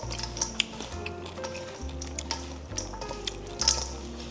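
Pork sisig being stirred in a pan, with soft scraping and faint sizzling crackle at a steady low level and a few light clinks of the utensil, no voices.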